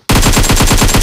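Loud, rapid automatic gunfire from PUBG bursts in, a steady rattling stream of shots with no pauses, the heavy synthetic punch of a shooter game.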